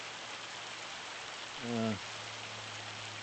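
Rain falls in the video game Farming Simulator 25, a faint steady patter throughout, briefly overlapped by a short spoken filler sound from a man.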